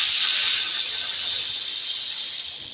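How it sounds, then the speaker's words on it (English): A ratchet wrench backs out 10mm bolts holding the fan on a 2008 Honda Accord, giving a steady, fast, hissy clicking that runs close and unbroken for a few seconds with no talking. "But we're gonna take these two 10mm bolts out"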